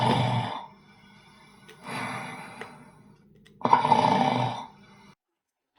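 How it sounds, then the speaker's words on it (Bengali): A sleeping person snores in a sound-guessing game, three broad raspy breaths spaced a couple of seconds apart, each rising and falling, close and fairly loud with quiet gaps between. "ঘুমে কেউ নাক ডাকছে"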